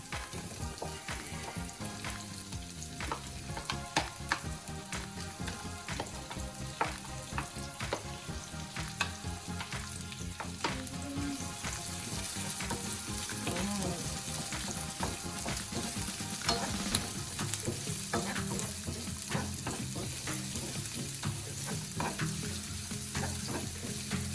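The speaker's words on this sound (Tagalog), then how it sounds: "lagay na natin ang ating bango, sibuyas" Onions sautéing with garlic and squid for adobong pusit make a soft, continuous sizzle with small crackles, faint and steady throughout.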